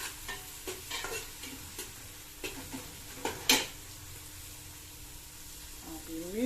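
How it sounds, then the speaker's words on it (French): A spoon stirs food in a cooking pot with rhythmic scraping taps over a low sizzle, close up, one sharp clink midway and a brief voice near the end. "On remue."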